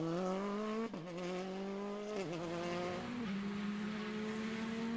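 A Hyundai i20 rally car on a South Belgian Rally stage drives past at speed, its engine droning steadily with a few sharp gear changes as the pitch dips and climbs, heard at a moderate distance without talk.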